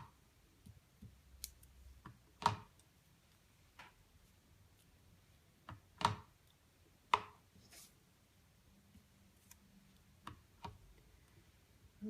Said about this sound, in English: Sorry, I feel like my stamps are loud.